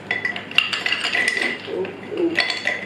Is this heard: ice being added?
yes